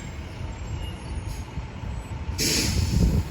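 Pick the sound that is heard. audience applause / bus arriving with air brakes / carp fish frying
bus arriving with air brakes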